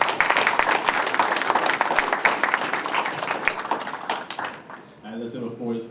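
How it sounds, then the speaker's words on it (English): Students and faculty at a student forum applaud in a dense, sustained round of clapping that fades out near the end as a voice begins speaking. "giving yourselves a round of applause"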